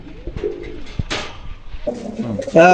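Pakistani high-flyer pigeons, including a red golden pair, coo at close range in short throaty bursts, with a stronger rolling coo near the end.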